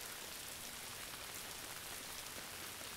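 Steady rain falls in a soft, even hiss with a dense patter of drops on a surface, continuous and unbroken throughout, with no voices.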